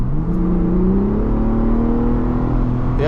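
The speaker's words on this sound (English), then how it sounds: "And I hear the turbo spooling." A Ford Bronco Raptor accelerates with its turbo spooling, a loud close engine drone with a rising whine that climbs steadily in pitch, no talking.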